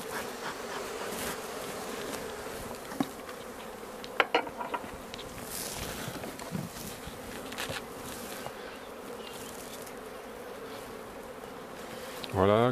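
Honeybees buzz at a hive after smoking, a dense steady drone close by with individual bees whizzing past the microphone and a few soft knocks of hive handling.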